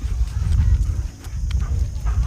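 A horse on an off-grid homestead, standing with its rear against a wall, gives off low, close rumbling movement sounds and soft clip-clop shuffling that continue steadily with no talk.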